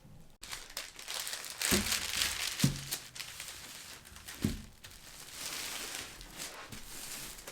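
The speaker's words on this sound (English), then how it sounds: "gotta go get my tracing paper." Sheets of tracing paper being handled for sewing 1970s-style wide-leg pants crinkle and rustle steadily, with several sharper crackles and crumples standing out close to the microphone.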